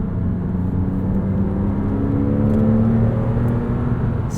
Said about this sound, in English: it's a great mix of induction and exhaust sound